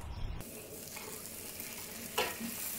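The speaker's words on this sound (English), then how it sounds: "let the lettuce sear along the side of the wok" Romaine lettuce searing and being stir-fried in a very hot wok with mashed preserved bean curd, a steady close crackling sizzle with a louder burst of frying noise near the end.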